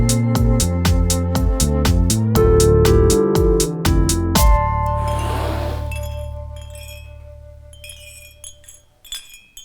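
Clay coffee mugs hung on leather lace as a garden wind chime knock together in a quick run of bright clinks, then ring out and decay, with a few soft scattered clinks after.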